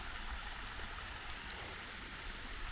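Water running off clay and sandstone at the Bridgewater Canal breach, heard as a steady, faint broadband rush like a stream or light rain, continuous and distant with no voices.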